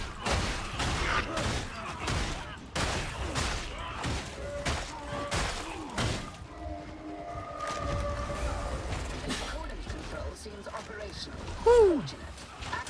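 Rapid volleys of gunfire in Darktide, the Warhammer 40,000 co-op shooter, crackle in dense bursts for the first several seconds, then thin out beneath game music, chatter and an Ogryn character's gruff voice.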